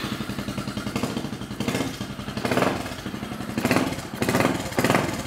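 A small engine fitted with a tiny turbo blow-off valve revs repeatedly, with several rising bursts and hissy releases over a steady idle, close and moderately loud.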